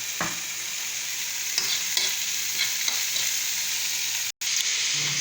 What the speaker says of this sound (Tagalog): So syempre isasama natin ang patis sa paggisa para mabango